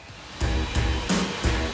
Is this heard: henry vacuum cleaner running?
yes